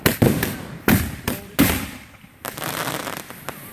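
Fourth of July fireworks display: three sharp, loud bursts crack out in quick succession, each trailing into crackle and rumble, followed by fainter, more distant pops and fizzing.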